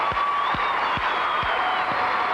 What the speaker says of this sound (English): Many are giving a standing ovation.